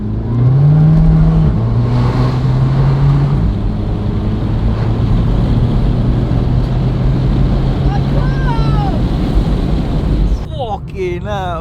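A modified VW Scirocco's engine revs hard, though not at full throttle, in a loud, steady roar with shifting pitch, buffeted by wind noise, easing off toward the end.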